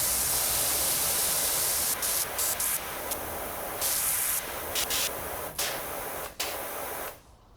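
A power washer hisses in a continuous, broadband spray in PowerWash Simulator 2, with brief dips as the stream cuts on and off before it stops near the end.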